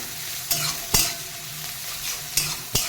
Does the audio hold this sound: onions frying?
yes